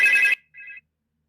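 A phone app rings in two quick electronic bursts, a longer bright tone followed by a shorter one, then silence.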